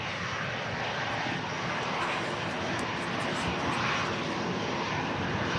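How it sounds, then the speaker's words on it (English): An EasyJet airliner arriving from Gibraltar gives a steady, fairly faint jet rumble, a continuous broadband roar heard from a distance in windy conditions. "this EasyJet is in from Gibraltar"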